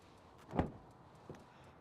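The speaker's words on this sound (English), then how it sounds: "Let's see how wide the door opens." A rear door of a 2024 Honda Accord LX swings open with one firm, close mechanical clunk, followed a moment later by a softer latch click, with no voices.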